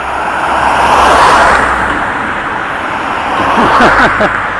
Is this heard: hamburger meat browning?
no